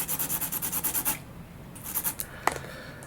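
A push rod is sanded by hand to roughen it for adhesion during an Eternity F5J tail boom build: about a second of quick, rhythmic rasping strokes close up, then quieter light scuffs and a sharp tick.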